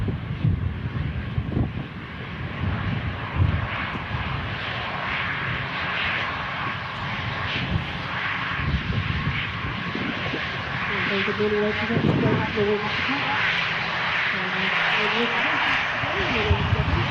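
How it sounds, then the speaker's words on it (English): An EasyJet Airbus A320 airliner touches down on runway 23 right, a broad, distant jet rumble mixed with gusty wind buffeting on the microphone, with people talking over it. "EasyJet A320 just touching down. Here on 23 right."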